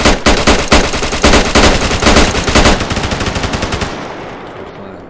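Automatic gunfire during a convoy ambush in the military shooter game ArmA 3, loud rapid bursts of shots in quick rhythm that tail off into echoing reverberation, with no talking.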